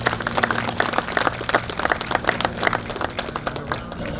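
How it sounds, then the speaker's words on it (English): Audience applause at a Vietnam veterans memorial name unveiling ceremony, steady sparse clapping over a low steady hum, moderately loud and continuous without talk. "How about a round of applause for them?"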